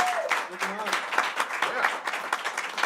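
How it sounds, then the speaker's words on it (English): A small audience at an informal couch performance circle claps for a performer, a short, even burst of applause with a brief voice near the start. "Big round of applause for Mark Flett."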